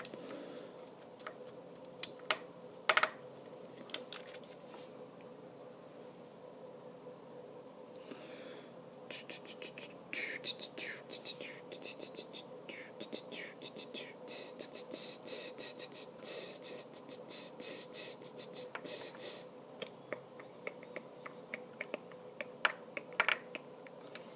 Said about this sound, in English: this is the boring part of just putting the bezel screws back in